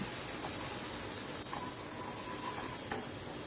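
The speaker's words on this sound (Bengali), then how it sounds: "এবার মশলাটাকে ভালো করে কষিয়ে নিচ্ছি অনবরত কিন্তু নাড়তে হবে" Masala spices fried in oil in a pot for a one-pot meal, sizzling in a steady close hiss while being stirred constantly, with a few faint scraping knocks and no talking.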